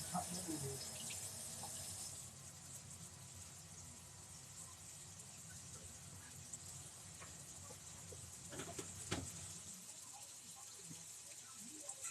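Tap water runs into a kitchen sink as hands are washed clean of sticky syrup, a faint steady splashing stream with a few small clatters near the end.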